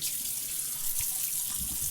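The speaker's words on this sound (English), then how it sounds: "I rinse my face with cold water" Cold water runs steadily from a bathroom tap as a face is rinsed after shaving, a continuous close hiss and splash with small bursts of spatter.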